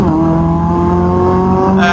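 Caterham SuperSport race car at Sepang Circuit, its engine droning loud and steady from inside the cockpit, the pitch holding nearly level before a brief shift near the end.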